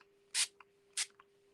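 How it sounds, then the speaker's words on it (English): A small hand-held water spritzer bottle sprays twice, each a short, close hiss of about a tenth of a second, followed by a faint click of the trigger, with quiet gaps between. "It's actually just a little spray bottle."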